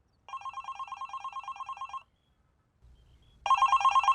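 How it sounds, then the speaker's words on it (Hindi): A telephone rings indoors in a comedic film scene: two loud bursts of rapid electronic trilling separated by a short silence, with faint low rumble before the second burst. "और तुम्हारा फोन भी तभी बजता है"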